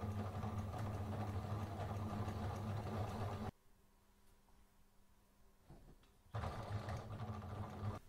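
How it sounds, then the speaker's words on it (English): Sewing machine stitching along marked lines on crazy-patch stocking pieces, a steady close motor hum that stops for a few seconds and then resumes, with no talk. "now I'm going to stitch along those lines on both pieces."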